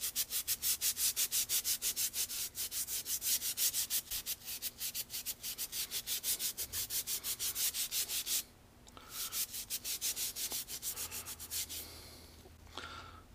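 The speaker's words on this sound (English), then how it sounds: "Let's take a clean pad. Wipe it down, see what comes up yet." Cleaning pad rubbed back and forth over a rusty M1 Garand bayonet blade, a rapid rhythmic scrubbing of quick even strokes, close and fairly quiet, briefly pausing before resuming.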